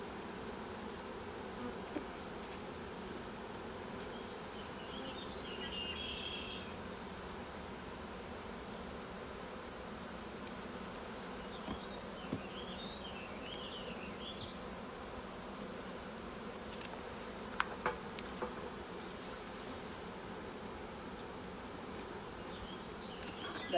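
Honeybees buzzing around hive boxes during a beehive merge: a soft, steady drone with occasional individual bees passing nearby, faint and continuous, no talking.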